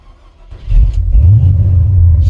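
An old car engine running rich and low on gas, rising from a quiet idle into a loud, deep, sustained rev close by, with no talking over it.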